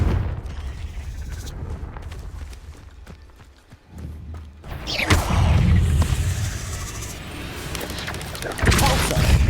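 Confringo fire spell exploding in Hogwarts Legacy combat, with crashing impacts and a heavy rumbling burst midway, then more blasts near the end amid ongoing fight noise.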